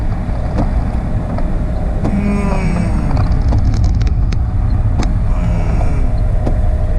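Car moving through heavy, solid traffic, with a steady low engine and road rumble, occasional passing vehicles, and a few clicks and knocks inside the cabin.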